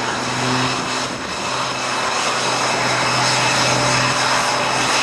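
An aerobatic propeller airplane performs at the 2008 NAS Oceana airshow, its engine a loud, steady drone that fills the whole stretch, with no talking.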